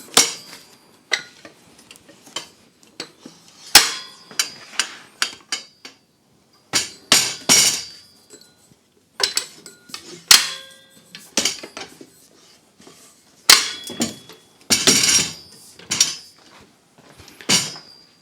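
Evolution mitre saw stand having its legs unfolded in a small workshop: a run of sharp metallic clacks, knocks and latch clicks, irregular and close, with short quiet gaps between bursts.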